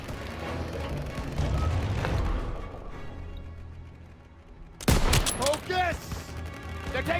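Call of Duty WWII combat on PS5: a dense fusillade of gunfire with booming blasts, a sustained rumble that fades and then bursts back in sharp, loud close shots, with shouted voices in the mix.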